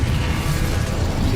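An Incendio fire spell is cast in Hogwarts Legacy, a loud rumbling burst of flame with heavy low roar sustained throughout, no talk over it.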